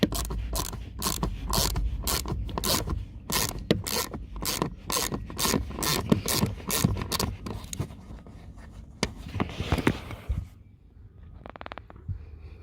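A silver T20 Torx screw is undone on the blower fan housing of a VW Tiguan Mk2 heater: a rapid run of crisp ratcheting clicks and scrapes, then a few sparser, quieter clicks.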